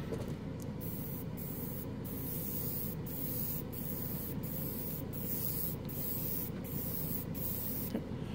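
Mobius 0.2 airbrush at 15 psi spraying gloss black primer, a steady soft hiss broken by brief regular pauses between passes, close and quiet, no talk.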